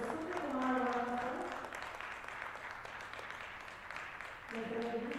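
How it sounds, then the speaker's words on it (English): Applause from a conference audience ripples through a hall at a fairly soft level, with a voice speaking over the clapping at the start and end. "Let's have a huge round of applause for Surya Kumar, sir, as well."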